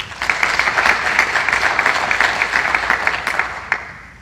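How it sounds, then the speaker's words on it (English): A city audience at the 2022 State of the City address breaks into steady, dense applause, many hands clapping together at an even level for several seconds. "let's give them all a round of applause"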